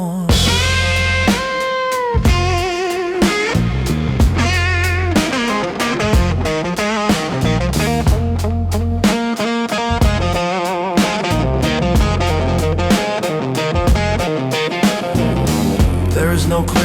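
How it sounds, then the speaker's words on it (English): A fuzz-distorted blues electric guitar forms a dense, loud wall of sound, with bent notes, harmonic squeals and melodic phrases buried within sustained chords over a heavy low end, in a modern blues style. "A blueser bend fights its way through the distortion, only to be swallowed and spit back out as harmonic squeal."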